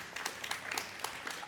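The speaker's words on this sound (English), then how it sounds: "round of applause" A round of applause from a conference audience at Breakpoint 2023, with scattered distinct claps rising out of a light, moderately near patter.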